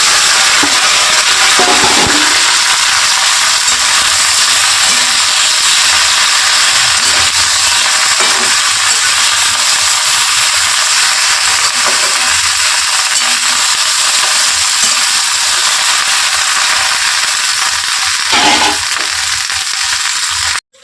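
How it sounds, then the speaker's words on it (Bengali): Sliced okra poured into hot mustard oil in a wok, frying with a loud, steady, close sizzle throughout, with brief scraping and clatter as it is stirred. "এখন ওই সর্ষের তেলের ওপর আমি ঢ্যাঁড়সগুলো ঢেলে দিচ্ছি"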